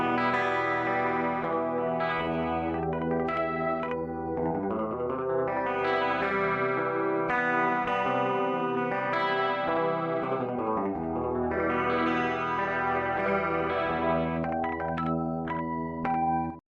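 An electric guitar plays chords and melody through a spatial chorus effect pedal, producing a wide, shimmering, modulated tone that stays loud and continuous with no talking.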